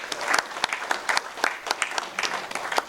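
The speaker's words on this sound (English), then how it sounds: "I want to applaud you for it" Applause from a men's club breakfast audience congratulating members, a burst of steady clapping with sharp individual claps throughout, fairly close and alone without talk.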